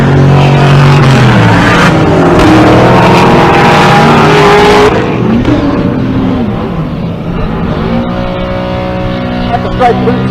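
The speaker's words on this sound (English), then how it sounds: "Really banging gears in that beautiful car." A 1969 Chevelle drag car roars off the line at a Pueblo, Colorado drag race, its engine pitch climbing and dropping with hard gear shifts before fading down the track, with an announcer's voice over the din.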